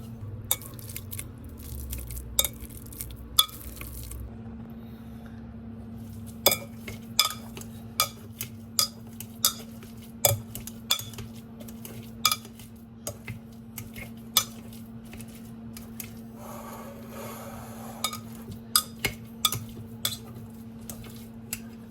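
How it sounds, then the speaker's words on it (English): Cooked squash chunks mashed in a bowl, with a run of sharp, irregular clinks and taps of a utensil against the bowl over a steady low hum and no talking. "So I'm just going to give it a mash."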